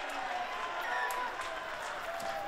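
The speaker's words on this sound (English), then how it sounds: "This West crowd really getting behind the boys now." A rugby crowd at Skyfleet Stadium cheers and applauds during a Wests versus Brothers club match, a broad, steady roar from a distance with some scattered claps, and commentary voices running over it.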